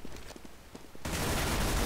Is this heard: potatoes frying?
no